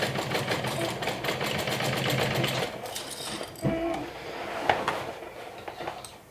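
A sewing machine runs steadily while stitching fabric side panels, then slows and stops, leaving small handling noises at the end.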